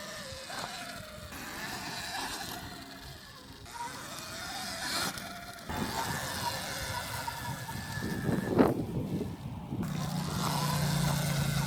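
A Sur-ron electric dirt bike fitted with an X controller accelerates under light throttle, a steady motor whine and rolling road noise building at moderate distance over about twelve seconds with no talk.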